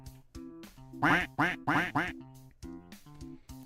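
Four loud, rapid duck quacks triggered as a sound effect by a chat command during a board game stream, sounding close and clear between softer tonal background sounds.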